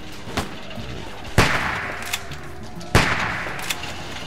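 Gunfire in The Walking Dead Telltale video game, three sharp single shots spaced apart with short reverberant tails and a couple of faint clicks, fairly loud against a quiet background.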